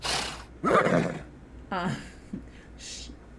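A horse whinny from The Sims video game comes in a couple of short bursts, with soft voice-like sounds between them, fairly close and clear.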